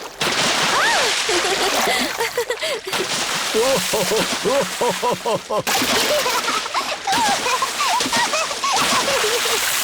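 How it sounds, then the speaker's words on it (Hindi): Cartoon beach scene with water splashing and sloshing in the sea, quick wet splatters repeating throughout while animated characters talk and laugh over them nearly the whole time. "अब और कितना छिड़कोगी?"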